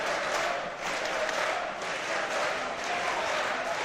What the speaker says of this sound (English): The crowd chants Theodor's name.